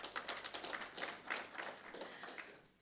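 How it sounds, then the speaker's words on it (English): Clapping from a conference audience in a plenary hall, heard faintly and at some distance as a soft, steady patter of scattered hands lasting a few seconds. "we should give Professor Mutwa a round of applause"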